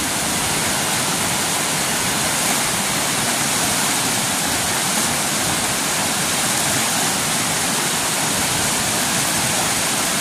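Loud, constant roar of rising floodwater rushing past, a dense unbroken wash of noise like a flooding torrent, with no voices.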